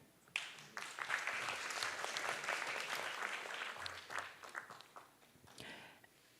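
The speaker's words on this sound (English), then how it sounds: "Please give a warm round of applause to congratulate them" A round of audience applause for award winners at a ceremony, clapping swelling quickly then thinning and tapering off over several seconds, moderately distant and fairly quiet.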